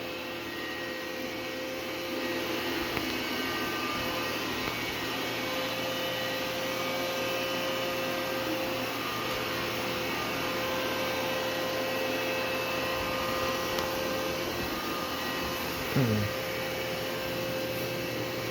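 An automatic robot floor sweeper runs steadily nearby with a constant whirring vacuum hum that lasts throughout, broken only by a brief bump or shift near the end.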